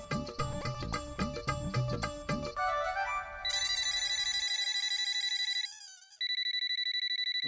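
A phone ringtone plays for an incoming call late at night, starting with a busy musical melody and shifting into sustained bright electronic tones that ring clearly with no voices over them.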